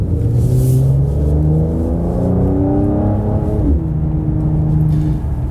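A Mercedes C43 AMG with an automatic gearbox drones loudly and steadily from inside the car while driving, its engine note rising through gear shifts with a smooth continuous hum and no speech.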